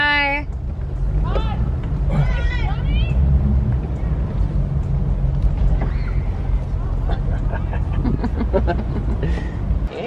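A C6 Corvette fitted with an LS2 engine runs with no exhaust, a loud, steady, deep rumble that continues unbroken under people talking.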